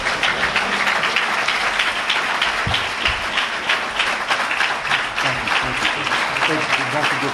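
An audience at a talk about mosque history gives a presenter a steady round of applause, dense clapping filling the room throughout, with voices mixed into the noise.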